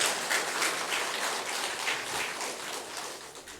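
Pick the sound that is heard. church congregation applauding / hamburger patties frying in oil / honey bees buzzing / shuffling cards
church congregation applauding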